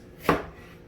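A single sharp knife chop through food on a cutting board while preparing chicken parmigiano, one crisp close thud in an otherwise quiet kitchen.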